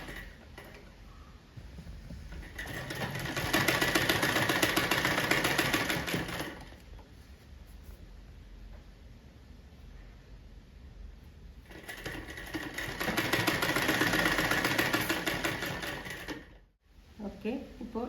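A sewing machine stitches fabric in two sustained whirring runs of several seconds each, steady and close, with quieter handling and pauses between the runs; someone talks across the gaps.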